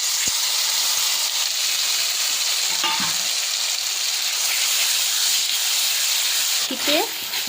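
Spice paste sizzling in hot mustard oil in a wok, a loud continuous frying hiss with occasional stirring scrapes, no talking.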